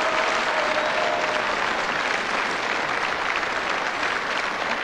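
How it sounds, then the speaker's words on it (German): A live television audience gives sustained, steady applause for a night watchman on a 1992 folk music show in Freistadt, Austria. The clapping is loud and even throughout, with a faint voice underneath. "einen herzlichen Applaus für den einzigen Nachtwächter, den es noch gibt in Österreich"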